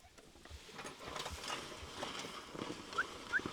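A team of horses sets off pulling a plough, with faint, scattered hoof steps and soft movement heard at a distance in a quiet field.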